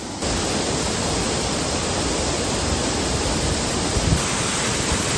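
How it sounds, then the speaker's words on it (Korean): A large waterfall roars steadily at close range, a dense, unbroken rush of falling water with no voices over it. "진짜 폭포가 진짜 완전 나이아가라 폭포급인데요?"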